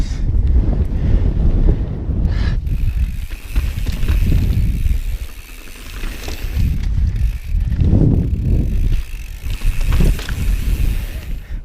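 Strong, gusty wind buffets the microphone while riding a mountain bike trail over large rock on Gooseberry Mesa in southern Utah, producing loud, surging rumbles that rise and fall throughout.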